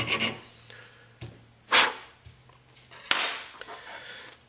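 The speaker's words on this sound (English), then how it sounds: "go with a larger file, larger round file" Round file rasping through aluminum in several separate strokes, each a brief scraping burst with clinks in between, close and fairly loud with a faint low hum underneath.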